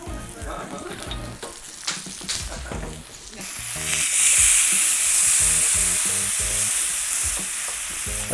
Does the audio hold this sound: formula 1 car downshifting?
no